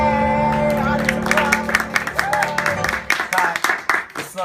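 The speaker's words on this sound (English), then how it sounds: "applause" A studio audience at a talk show applauds and cheers, with dense clapping, whoops and shouts building into a loud, close burst that stays sustained and lively throughout.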